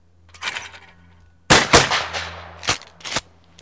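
Several sharp gunshots crack out in close succession, a few loud reports with short ringing tails spaced unevenly over a few seconds, recorded up close with no talking.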